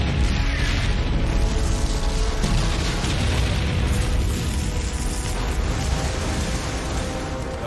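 German guns fire on tanks coming ashore during the Normandy landings, a dense, continuous roar of gunfire and explosions with booming low rumble and repeated bursts, loud and sustained with no talk.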